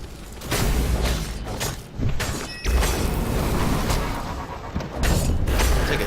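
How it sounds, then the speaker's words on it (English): An explosion in the game Stories: The Path of Destinies: loud, dense booming thuds and crashing impacts arrive in several heavy waves separated by brief dips, with a deep rumble underneath throughout. "Take a hit and an explosion."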